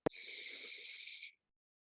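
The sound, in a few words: deep breath in during yoga practice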